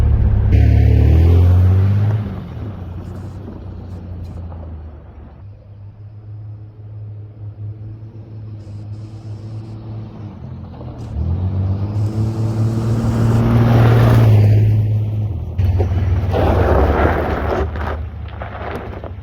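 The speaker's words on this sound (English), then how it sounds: "I am so happy to have the little Blazer back running again." A Chevrolet Blazer's engine running, a low rumbling idle that swells and rises in revs partway through before settling again, with some rattling noise on top, close and steady with no talking.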